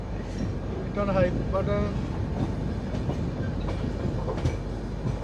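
A Vistadome coach train runs from Visakhapatnam toward Araku, its steady rumble and rattle of wheels on track close and continuous, with a brief horn-like tone early and people talking over it.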